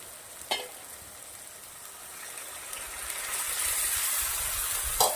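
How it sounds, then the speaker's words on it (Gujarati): Hot water is poured into a pan of softened onions for a Rajasthani green onion and sev curry, raising a loud, steady hiss and sizzle that swells over several seconds, with brief clatters at the start and end and no talking. "હવે આપણે અંદર ગરમ પાણી નાખવાનું છે થોડું."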